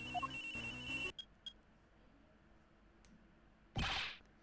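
A cell phone in the video game Miles Edgeworth Investigations 2 plays a short electronic ringtone melody for about a second, followed by a few sparse clicks and a sharp swoosh.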